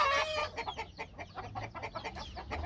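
Rooster at a ranch in Valle de Guadalupe, Mexico, clucking in a quick run of short, close, repeated calls, with a brief crow-like cry at the start over a low background hum.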